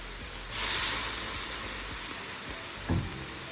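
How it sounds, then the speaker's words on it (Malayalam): Soy sauce hits a hot pan of egg fried rice with a sudden loud hiss that settles into a steady sizzle, then a second short burst near the end; no voices. "കുറച്ച് സോയ സോസ് ഒഴിച്ച് കൊടുക്കാം"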